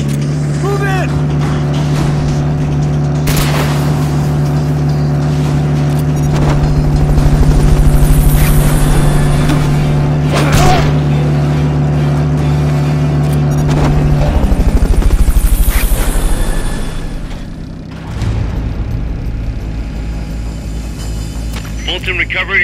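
A helicopter in the video game Metal Gear Solid Peace Walker throbs with a loud, steady rotor drone that swells and fades over about twenty seconds, with game effects and voices over it.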